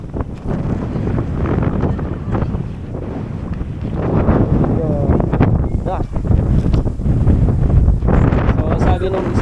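Strong wind blows at a beach and buffets the microphone with a loud, continuous rumble. Faint voices come and go underneath.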